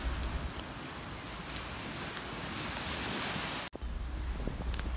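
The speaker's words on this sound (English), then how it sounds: "Holy moly, the waves are crazy here. It is super, super windy" Stormy ocean surf pounds a lighthouse beach under strong wind, a loud continuous roar with buffeting gusts against the microphone and a brief dropout near the end.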